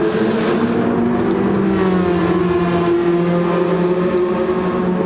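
Race cars roaring around a circuit in Gran Turismo 7, steady loud engine drone with shifting pitch as two cars battle closely, no voices.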